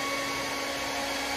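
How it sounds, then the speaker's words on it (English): A hair dryer blows steadily over a primed 1974 AMC Hornet model car, a constant whooshing motor hum that stays even and fairly quiet throughout, with no talking. "Now I like to run the hair dryer"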